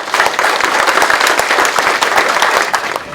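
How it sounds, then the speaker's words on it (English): An audience at a school district career and technical education celebration gives a loud round of applause, a dense, sustained burst of many hands clapping close by with no talking. "Let's give everybody a round of applause."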